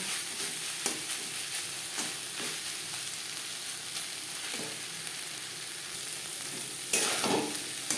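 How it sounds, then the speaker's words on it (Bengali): Banana flower curry with coconut is stirred and dry-fried in a kadai over a gas flame, giving a soft continuous sizzle broken by occasional scraping strokes of the spoon. "এইভাবে নাড়াচাড়া করে ড্রাই করে দেব"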